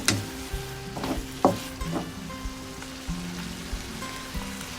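Mussels and basil leaves stir-fried in a pan, with the spatula scraping and tossing in a few distinct strokes over a constant soft sizzle.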